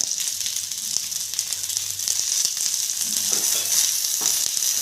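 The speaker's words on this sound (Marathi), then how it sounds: "आता तसंच खोबरं पण थोडंसं तेल टाकून परतून घेणार आहे" Grated coconut sautéing in a little oil for a spicy brinjal curry masala. A loud, continuous close sizzle with light stirring scrapes throughout.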